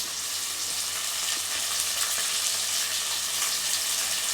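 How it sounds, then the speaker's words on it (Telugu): Curry leaves frying in hot oil for tomato rice give a loud, steady, crackling sizzle that holds evenly from start to finish, with no voices. "ఇవన్నీ కొంచెం ఫ్రై కావాలి"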